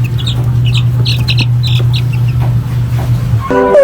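Week-old chicks chirp in quick, high, scattered peeps while eating feed, close by over a steady low hum.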